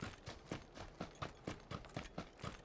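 Horse hooves clip-clopping at a steady trot in the video game PUBG, a clear regular rhythm of roughly four to five strikes per second, close and alone.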